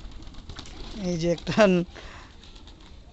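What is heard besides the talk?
pigeons cooing at a water bucket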